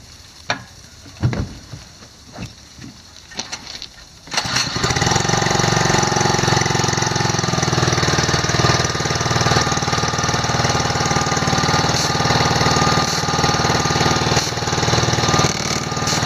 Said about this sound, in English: That's the blow-off valve you're hearing right there.